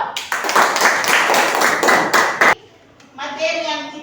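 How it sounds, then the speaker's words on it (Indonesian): Classmates clap together in a classroom for a student who just answered, a dense burst of hand claps lasting a couple of seconds that stops abruptly, followed by a teacher's voice speaking. "kita berikan tepuk tangan buat teman kita yang sudah menjawab"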